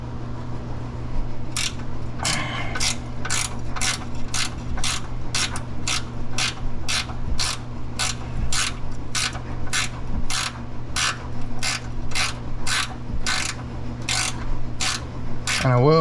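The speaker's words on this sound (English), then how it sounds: "ratcheting wrench would be your friend here" A ratcheting wrench turns a bolt on a rear toe link of a Lexus SC300/SC400 during an aftermarket toe link install. It gives a long, steady run of sharp, close clicks at a regular pace, and a voice briefly sounds at the very end.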